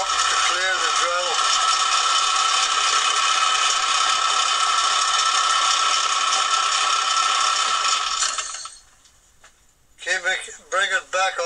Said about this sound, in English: Using a drill in the collet, you've got to go very, very slowly and keep bringing it back up to clear the drill.